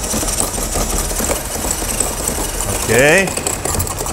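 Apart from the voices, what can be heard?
cordless screwdriver running with switch clipped on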